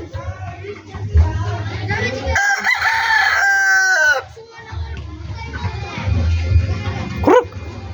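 A Pure SBR rooster in a backyard breeding yard crows once loudly and close, a long drawn-out call, amid low clucking, some barking and faint voices nearby.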